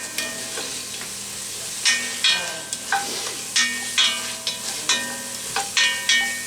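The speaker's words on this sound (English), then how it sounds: "I'm just gonna stir these up a little bit, mess with them a little bit." Leftover beef roast stroganoff gets stirred in a sizzling frying pan, with a steady frying hiss. A utensil scrapes and clacks against the pan in a series of short, regular strokes.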